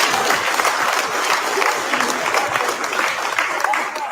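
Loud, sustained applause from a crowd at a political gathering with the PNCR opposition leader and an MP, dense continuous clapping filling the whole stretch, with voices mixed faintly in the background.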